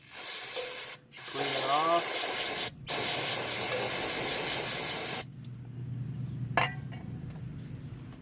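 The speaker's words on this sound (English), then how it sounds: "I'm going to use some brake cleaner. Clean it off." Brake cleaner sprays from an aerosol can onto the slip yoke of a Jeep XJ, two long close hissing blasts broken by brief gaps, followed by a quieter stretch with faint clinks and a low rumble.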